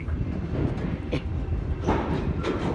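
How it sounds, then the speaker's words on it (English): A train comes in on the rails with a steady, loud rumble and a rhythmic clatter of wheels, punctuated by periodic clacks as it draws closer. "It's a train trying to come this way"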